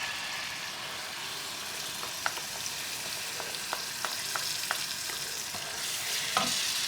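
Tomato puree sizzles steadily in a pan for a curry sauce, with occasional soft pops and a light scrape of stirring, no voices.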